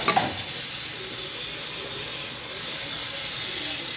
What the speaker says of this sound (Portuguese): O bacon já tá fritando